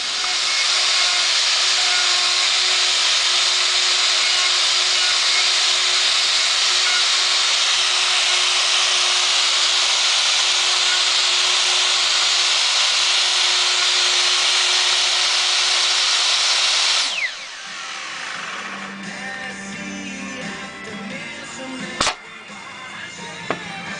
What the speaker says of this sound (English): We're just slightly undercutting the neck socket, and then I'll chisel it out afterwards.